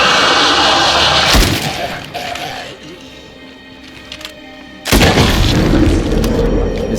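Gun shooting in Fortnite Save the World, a loud booming blast that decays and then returns as another heavy blast near the end.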